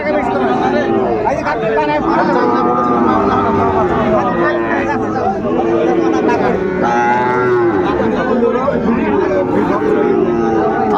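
Several Sahiwal bulls low and moo repeatedly, close by, over a steady hum of crowd chatter and people talking at a busy cattle market.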